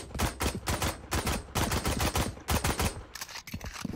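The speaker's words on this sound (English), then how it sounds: "Now he's just wasting bullets." Video game gunfire cracks out in quick bursts of sharp, loud shots with brief pauses between volleys, close and clear with no voices.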